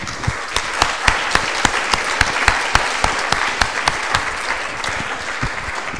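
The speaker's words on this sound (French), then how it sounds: "vous pouvez vous applaudir" An audience in a hall bursts into brisk, continuous applause, with many sharp individual claps standing out near the microphone over a dense wash of clapping.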